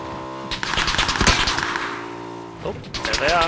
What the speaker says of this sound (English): Seems to be shooting me here.